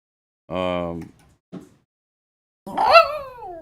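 A dog named Lulu lets out a howl: a voice starts with a drawn-out tone, then after a pause the dog's rising, wavering howl sounds clearly, close by and fairly loud.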